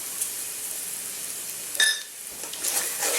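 Whole spices and bay leaves sizzle gently in hot oil in a pan, a soft, steady frying hiss with a brief clink of a utensil midway.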